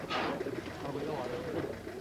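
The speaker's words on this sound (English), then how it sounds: "I've brought some pigeons down to show you, the baby pigeons." Young pigeons coo softly, a few low throaty calls rising and falling close by, with a brighter flutter or chirp near the start.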